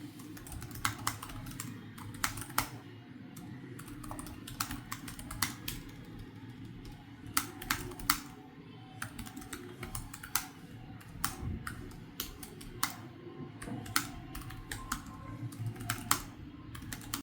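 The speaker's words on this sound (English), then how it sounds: "The Spectre's keyboard has great tactile feedback that makes typing enjoyable." Fingers typing on an HP Spectre laptop keyboard with tactile keys, a quick irregular patter of close, crisp clicks in bursts with brief pauses, over a faint steady background hum.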